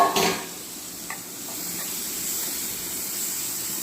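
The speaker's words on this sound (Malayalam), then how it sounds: "നമുക്ക് ഇതിനകത്തോട്ട് ഒരു ചെറിയ തക്കാളി ചെറുതായിട്ട് അരിഞ്ഞ് ഇതിനകത്തോട്ട് ചേർക്കാം" Chopped tomato goes into sizzling masala in a pan and is stirred in, giving a soft, steady hiss and crackle with a few faint scraping stirs, close up and with no talking.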